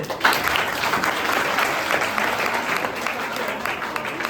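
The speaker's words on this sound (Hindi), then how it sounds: "चलिए ताली बजा दीजिए" A crowd of schoolchildren and adults at a school event breaks into applause, a steady, dense patter of many hands clapping that lasts a few seconds at moderate volume.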